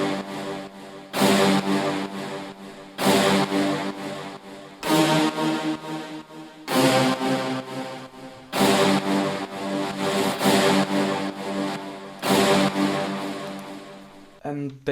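Loud, punchy brass shots in an electronic track hit in regular stabs every couple of seconds over a bassline, forming a dense, full mix with no gaps.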